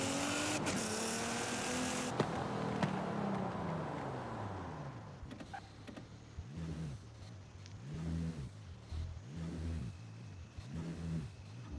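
A car engine in Forza Horizon 5 revs at launch control: first a loud sustained high-rpm roar with a sweeping pitch, then a series of rhythmic rising and falling revs, each swell repeating roughly every second and a half.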